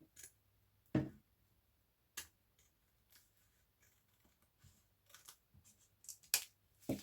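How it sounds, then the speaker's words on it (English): Sharp snips of scissors cutting paper while trimming pieces for a stacked envelope pocket craft, heard as a few isolated close cuts scattered among quiet handling rustles. "I think I need a sharper pair of scissors."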